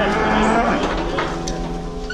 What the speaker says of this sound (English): This aggressive new bull sounds angry from the start and is determined to escape.